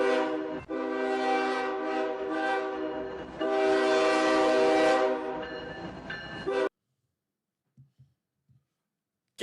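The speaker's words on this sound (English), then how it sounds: "The next train approaching platform 1 is your non-stop." At a darts walk-on in a European Tour Grand Prix arena, a loud train sound effect plays, with a rumbling rail roar and sustained horn tones for several seconds, then cuts abruptly to near silence with faint thumps.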